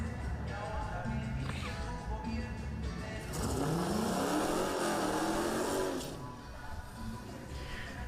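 A Holden Monaro drag races at Yellow Belly track with a loud engine roar that climbs in pitch as it accelerates and then fades, over a noisy crowd and track background.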